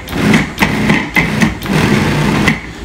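Food processor pulsing flour, salt and sugar for strawberry tart dough, giving four or five short, loud motor bursts with brief gaps between them and no talking.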